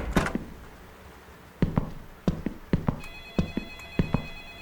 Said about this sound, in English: Oh, I don't want to answer the phone.